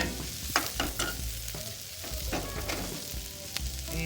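Frozen vegetables fry on a teppanyaki griddle, with a steady broadband sizzle and a few sharp spatula scrapes and taps across the griddle surface, loud and close, no voices.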